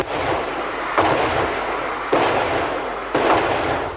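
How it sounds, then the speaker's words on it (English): Fireworks booming at a 1996 concert in Perth, Australia: loud, rumbling blasts recurring roughly once a second over a dense, continuous roar of crowd and explosions. "a fireworks spectacular that dazzled the crowd"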